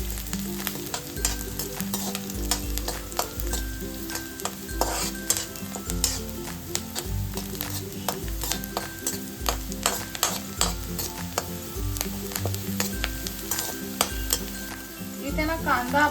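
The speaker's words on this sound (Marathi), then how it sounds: "हे 3 मिरच्या घेतल्या तिथे त्या टाकूया आणि थोडा कढीपत्ता आणि हे सगळं मिश्रण आपण चांगलं परतून घेऊया" Green chillies, curry leaves and onion frying in oil for leftover-rice phodnicha bhaat, a steady loud sizzle with stirring scrapes and utensil knocks against the pan, under a low tonal background with no voices.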